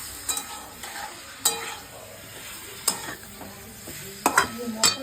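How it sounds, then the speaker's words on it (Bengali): Chicken cooking in a pan, a soft sizzle broken by repeated sharp scraping stirs at irregular intervals, moderately close, with no voices. "চিকেন রান্না হচ্ছে, দেখো চিকেন রান্না হচ্ছে"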